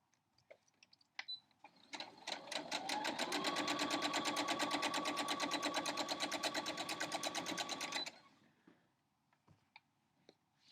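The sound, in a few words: sewing machine stitching quilt block edge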